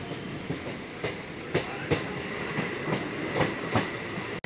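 A Kolkata circular rail local train rolls along with a rhythmic clickety-clack of wheels over rail joints, steady and fairly close, with no talk.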